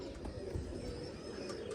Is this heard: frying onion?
no